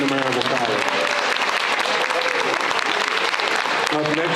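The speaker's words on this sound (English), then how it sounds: "one more round of applause" A high school signing day audience gives a dense round of applause, loud and continuous, with a voice calling out over the clapping at the start and end.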